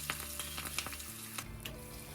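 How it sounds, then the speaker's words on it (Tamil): Cashews and spices sizzle steadily in hot ghee and oil up close, frying for a Tamil-style pongal tempering, with small crackles and pops. "நெய்யும் எண்ணெயும் சூடானதுக்கப்புறமா அது கூட முந்திரி பருப்பு சேர்த்து கொஞ்சம் ப்ரௌனாக வர்ற வரைக்கும் வறுத்துக்க போகிறேன்"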